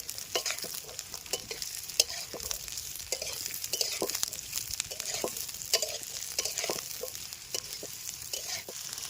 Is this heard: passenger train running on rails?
no